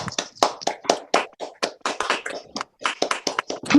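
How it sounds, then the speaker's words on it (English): Lively clapping from a small audience unmuted on a video call, dense overlapping claps in an uneven rhythm from several people, close and fairly loud, with a brief pause near the end. "I want to unmute everyone so we can get an applause"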